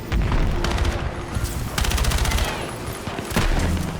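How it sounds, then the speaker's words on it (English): Gunfire in the video game Battlefield 6: dense, loud bursts of automatic fire and overlapping shots rattling almost nonstop, with short gaps between volleys. "Okay, I'm almost out of bullets."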